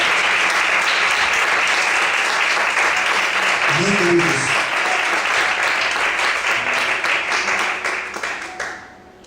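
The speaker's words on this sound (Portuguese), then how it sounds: "Você pode aplaudir bem forte, Senhor Jesus?" A church congregation at a talk for married couples bursts into loud, sustained applause that fills the room, with a brief spoken line over it before the clapping tapers off at the end.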